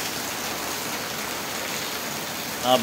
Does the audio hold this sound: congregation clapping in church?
no